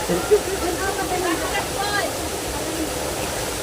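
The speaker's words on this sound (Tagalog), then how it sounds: "Dito kami sa falls ng Pamplona." Pamplona falls pours in a constant broad rushing roar, close and unbroken, with voices faintly present beneath the water noise.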